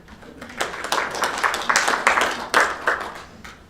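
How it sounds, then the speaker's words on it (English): A small audience at a school board meeting claps in short, uneven bursts, close and fairly loud, fading between each flurry of hand claps. "So round of applause to them."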